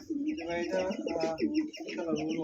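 A pair of Mukhi pigeons at a pigeon dealer's coo in close, throaty, rolling phrases, a few bursts in quick succession with no voices over them.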